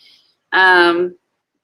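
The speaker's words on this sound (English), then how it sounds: "I'll have you listen to me clear my throat." A single throat clearing, close and fairly loud, lasting about half a second with a rough, buzzy, voiced rasp, then silence.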